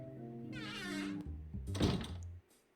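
A door opens in the video game Edna & Harvey: The Breakout, a short sequence of creaks and thunks that ends in a louder bang before the sound cuts off, heard alone and fairly quiet.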